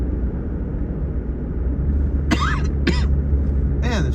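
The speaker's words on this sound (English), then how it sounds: "Man, this cough." A man with asthma coughs three times in short harsh bursts, close by, over a constant low rumbling background noise.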